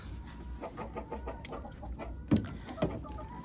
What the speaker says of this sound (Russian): Наверное, сидит какая-то курица, несется.